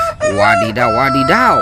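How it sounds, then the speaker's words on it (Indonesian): A toy rooster crows loudly up close, with a rising and falling cock-a-doodle-doo, while a person speaks playfully over it. "Ini ada ayam berkokok teman-teman."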